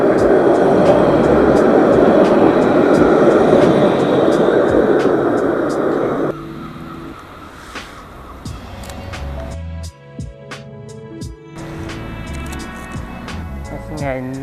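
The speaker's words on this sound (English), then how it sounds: "Okay, I'll let the tram go" A tram rumbles loudly past on a street in Le Havre for several seconds, then fades away, leaving quieter street sounds with scattered clicks and light knocks.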